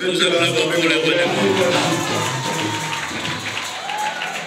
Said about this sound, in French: Nous applaudissons pour les bonheurs.